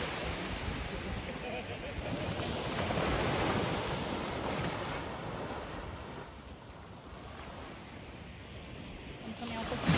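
Surf rolls steadily onto an empty stretch of Daniela Beach in Florianópolis on a cool, sunless late-winter afternoon, a continuous wash of breaking waves with wind buffeting the microphone.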